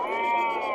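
A single sustained, wavering bleat from a lamb about three months old at the Amingad sheep and goat market in Karnataka, close and fairly loud, heard alone.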